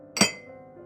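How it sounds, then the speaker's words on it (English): A brandy glass is set down hard on a table, making a single sharp glassy clink with a short ringing tail that fades in a quiet room. "setting the glass back down on the table a bit too hard"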